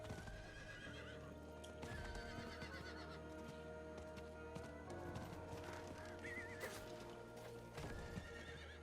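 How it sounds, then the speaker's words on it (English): A horse whinnies and neighs repeatedly over steady hoof clip-clops in Diablo 4, set against a continuous game soundtrack with tonal music. "So it looks like we can't jump over things with our horse"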